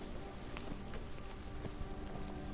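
Horse hooves clip-clopping in the western game Red Dead Redemption 2, a quiet, steady rhythm of several hoofbeats on the ground with faint background ambience.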